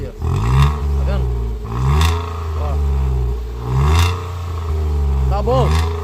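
A car engine with crankshaft end play revs up and falls back in several loud, close surges, with a clattering edge on each rise and someone talking between the bursts.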